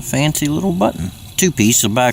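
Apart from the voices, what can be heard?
No everyday noise stands out behind the speech.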